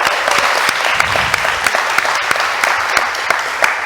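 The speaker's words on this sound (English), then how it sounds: "One more big round of applause for Umeko." Loud, dense audience applause at a specialty coffee conference in San Francisco, a full room clapping steadily and close, with a few sharp individual claps over the wash and no talking.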